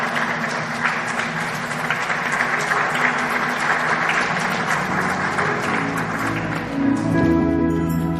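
A gathered audience gives warm, sustained applause to welcome speaker Orlando Rojas, steady dense clapping at close range that carries through to the end.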